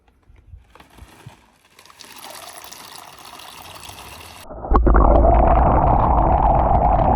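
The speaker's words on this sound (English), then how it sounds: "you're going to pour them in a bucket and we're going to soak them for 24 hours." Water poured into a bucket of dried tiger nuts to soak them, a light trickle building into a loud, steady gushing fill that dominates the second half.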